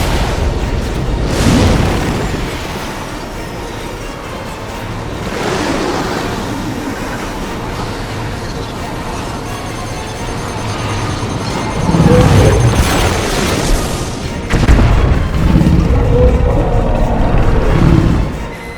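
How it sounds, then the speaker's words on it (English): Submarine firing torpedoes 1 and 2 in a shark creature film: deep rumbling launch bursts and booming surges over a continuous low mechanical drone, with loud heavy thumps building toward the end. "Firing torpedoes 1 and 2."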